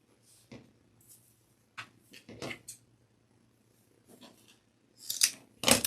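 Scissors snip through loops of rope cord at the bottom of a wreath on a triangle board, giving several short, sharp cuts spread across the stretch, the last few louder and closer, with quiet between them.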